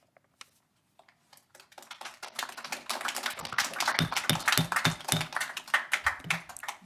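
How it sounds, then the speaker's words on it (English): Audience applause at a city council meeting, starting with a few scattered claps that swell into a dense, steady round of clapping from many people in a large room, with no talk over it. "we do not allow clapping, jeering, any responses"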